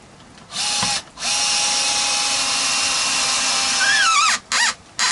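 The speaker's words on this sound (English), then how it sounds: "just slowly let the countersunk screws pull the plate into place" A power drill drives countersunk screws into a Telecaster guitar neck plate: a long steady whine that rises in pitch as the screw bites, then a few short bursts to finish, loud and close with no talk.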